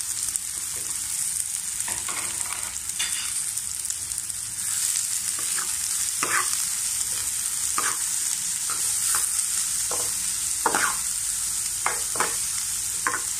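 Chopped garlic and onion frying in hot cooking oil in a pan, a steady broadband sizzle throughout with scattered sharp clicks and pops, close and alone without talk.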